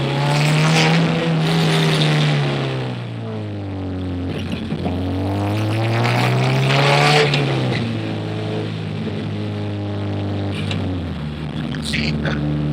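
Honda CRX with a K20A2 engine driving, its engine note loud and rising and falling steadily as it revs and cruises, with a brief voice over the drone.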